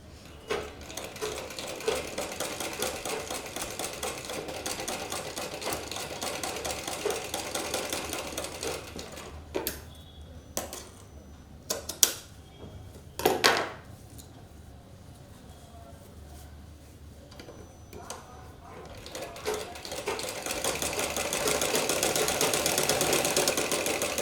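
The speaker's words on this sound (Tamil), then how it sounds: "நம்ம டாப் ஸ்டிச் போடும் போதே இந்த லேஸை வச்சு தைக்க ஆரம்பிச்சிடணும்" Sewing machine top-stitching lace onto a blouse sleeve, running in steady rapid bursts with short pauses and handling noise between, close and clear throughout.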